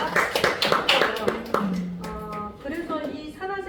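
A short burst of audience clapping during a hair-dye product presentation quickly fades as a voice takes over and keeps talking.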